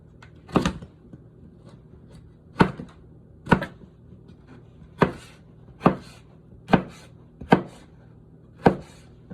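A knife chops vegetables into bite-sized pieces on a board, roughly nine sharp, close thuds at an uneven, unhurried pace with quiet between strokes.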